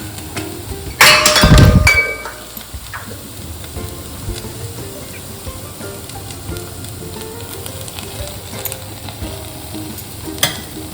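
Butter and a little oil sizzle in a pan while being stirred for white sauce, a loud burst of crackling and scraping at first, then a steady quieter fry with occasional clinks.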